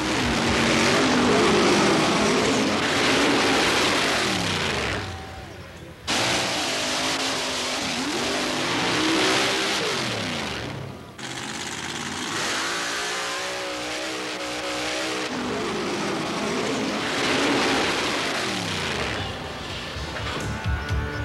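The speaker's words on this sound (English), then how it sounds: "This 1927 Peyton Roadster sports a 550 cubic inch Chevy engine with Pontiac heads and a 2-speed Lenco transmission with a slipper clutch for better takeoff." A 1927 Peyton Roadster with a 550 cubic inch Chevy engine, Pontiac heads and a 2-speed Lenco transmission with slipper clutch revs loudly and close in repeated sustained bursts, with brief drops in the engine note between runs.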